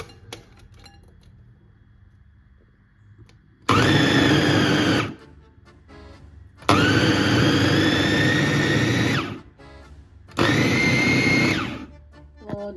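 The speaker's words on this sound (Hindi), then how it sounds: "अब मैं इसको जो है ब्लेंड करने लगी हूँ।" A blender grinds soaked lentils with ginger and green chilies, running in three loud bursts of a few seconds each, separated by brief pauses, with a thick whirring roar that steadies as the mix breaks down.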